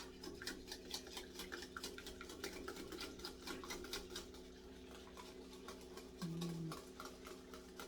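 Pecan pie ingredients, including Jamaican rum vanilla, being stirred in a bowl, with a steady run of quick rhythmic clinks and taps from a utensil against the bowl, fairly faint and close.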